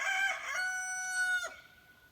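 A rooster crows once, close and loud: a long, bright cock-a-doodle-doo that holds steady and then cuts off, leaving quiet farmyard air.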